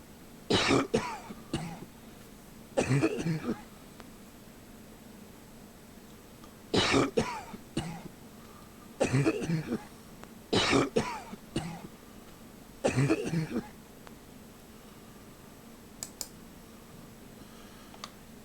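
A character in the Gabriel Knight adventure game coughs in repeated harsh bursts, five or six fits spaced a few seconds apart, close and loud against a quiet background with faint clicks between them.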